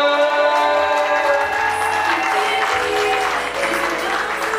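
An indoor audience at a television show applauds with steady, dense clapping, with music playing underneath throughout.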